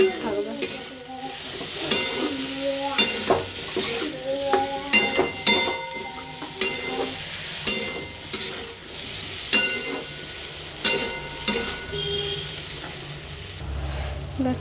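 Soybean fritters fry in a pan with potato and onion, sizzling steadily while a spoon stirs and scrapes in a regular rhythm about every second, close and fairly quiet.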